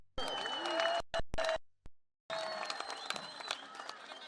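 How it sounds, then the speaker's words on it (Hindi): Crowd applause and cheering at a political opposition rally in Pishin, a dense roar of clapping broken by sharp cutouts, then resuming loud and sustained. "एक बड़ी ताली तो बनती है ना।"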